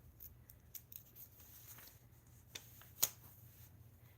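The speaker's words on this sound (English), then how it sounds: "cut yarn off and fasten off" Scissors cut yarn during crochet: a few faint, soft snips close by over quiet room noise, with one sharper click near the end.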